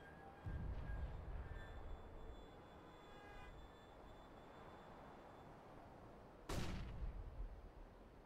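A grenade detonates in the tactical shooter CS:GO, a sharp broadband blast followed by a rumbling tail, heard over a steady low rumble of earlier in-game noise with faint tonal effects.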